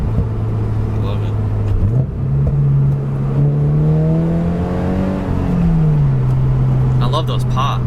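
A 2022 Subaru BRZ with an HKS exhaust revs and pops, its engine drone rising and falling under loud conversation as people talk over it.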